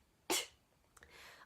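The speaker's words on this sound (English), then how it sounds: "I'm gonna sneeze." A single sharp human sneeze bursts out close and loud, followed by a quick breath and faint throat noises in an otherwise quiet room.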